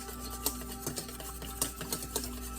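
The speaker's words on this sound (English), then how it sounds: "I'm gonna break the egg up and whisk it" An egg whisked in a bowl for sourdough molasses cookies gives a run of light, quiet clinks and taps, seven or eight small strikes at an uneven pace over a low steady background.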